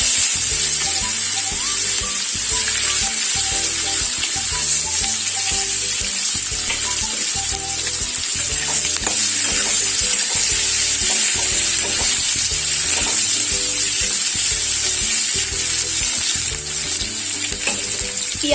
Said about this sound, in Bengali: পেঁয়াজটা আমি ব্রাউন কালার করে ভেজে নেব